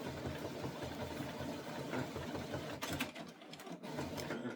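An Epson ET 8550 printer runs a print head cleaning cycle, a steady mechanical whirring and rhythmic chugging that continues throughout, with a few sharp clicks near the end.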